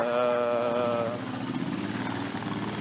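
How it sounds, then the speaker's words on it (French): An Italian motorcycle engine idles nearby on a street in Singapore, a steady low, slightly uneven mechanical rumble that shifts tone partway through, with no talk over it. "Une moto italienne."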